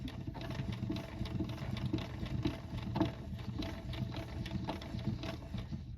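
An Alpha 77Dx amplifier's vacuum variable capacitor is being cranked, giving a steady low mechanical whirr and rumble with faint ticking, close up and continuous for several seconds with no talking.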